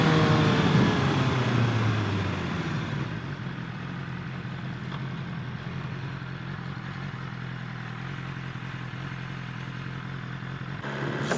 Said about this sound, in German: damit fahren wir dann mal ein bisschen M1000R